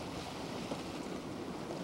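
Trade winds of 8 to 16 knots rush over a sailboat in the South Pacific, a steady broad roar of wind and ocean waves washing continuously around the hull, with no voices.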